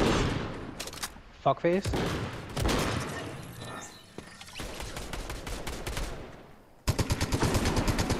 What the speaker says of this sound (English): Oh, there's a guy right below us. Shooting at him.